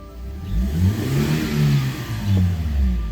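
A car engine revving repeatedly, rising and falling in pitch through several rev cycles, close and fairly loud with no talk over it.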